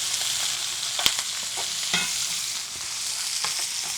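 Onions, shallots and red peppers fry in a pan for crawfish corn maque choux, a constant crackling sizzle broken by sharp scrapes and clicks of a spoon stirring, close up and without voices.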